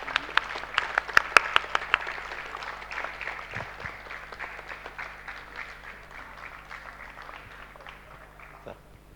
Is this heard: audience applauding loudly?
yes